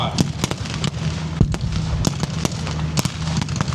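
A mortar round detonates during a tank battle reenactment at Bovington Tank Fest, one of several sharp blasts that crack out over a steady low rumble of engines and gunfire on an open field.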